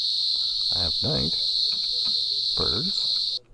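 A night ambience sound effect with a dense, steady chorus of crickets chirping close and loud, with a few faint animal-like calls rising briefly over it before the sound cuts off abruptly at the end.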